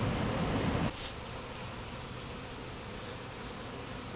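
A swarm of honeybees buzzes steadily near their hive during a honey harvest, agitated because no smoke is used: a dense, continuous hum, louder and rougher for the first second, then even and sustained to the end.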